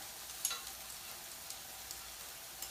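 Curry powder, about a tablespoon, going into a sizzling oiled pan for a vegetarian curry, a steady faint high frying hiss with a few soft ticks and pops; no one talks.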